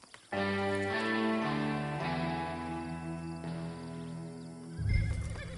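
A video game horse gives a long whinny that rises and falls over a sustained musical drone, then a burst of lower snorting near the end.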